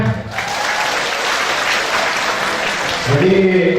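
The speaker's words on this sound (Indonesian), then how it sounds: "tepuk tangan semuanya" A seated audience at a university briefing for student community-service participants breaks into loud, sustained applause, many hands clapping evenly for about three seconds before it tapers and a voice begins speaking.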